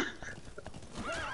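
A horse in the Metal Gear Solid video game whinnies while its hooves clip-clop steadily, close and clear in a short burst.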